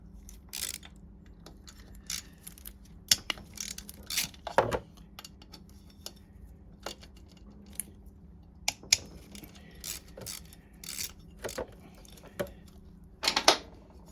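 Socket ratchet with an 8mm socket undoing bolts on a 1982 Honda Melody scooter: scattered metallic clicks and short ratcheting bursts, close by and fairly quiet, with pauses between them.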